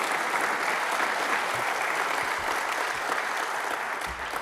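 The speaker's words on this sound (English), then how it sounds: "please join me in a round of applause." An indoor audience at a crowdfunding event applauds steadily and loudly for the speakers, a dense wash of clapping that holds for several seconds with no voices over it.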